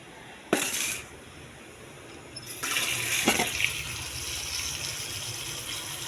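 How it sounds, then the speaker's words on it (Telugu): Tap water gushes over grapes being washed for grape juice. A short splash comes first, then a longer, steady pour that runs to the end. "శుభ్రం కడగాలి వాటర్ పోసి."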